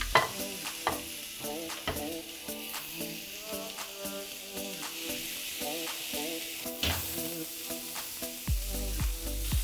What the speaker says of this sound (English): Our grilling tray is nice and hot. We're gonna go ahead and place our beef patties.